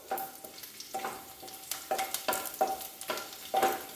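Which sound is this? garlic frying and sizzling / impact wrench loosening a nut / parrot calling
garlic frying and sizzling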